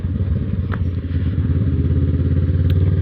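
A Kawasaki Ninja 650 (ER6F) motorcycle on a ride, its parallel-twin engine giving a loud, close, steady low throb with some wind buffeting and clatter.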